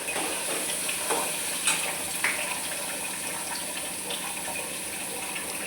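Water is poured into a hot cooking pan in a home kitchen, setting off a steady, moderately loud sizzle with a few brief clinks and splashes near the start.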